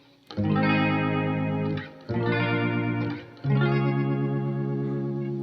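Guitar chords through a Walrus Audio Fundamental Chorus pedal with depth turned all the way down strum three times in sustained, fast-pulsing shimmer, each ringing close and loud before the next.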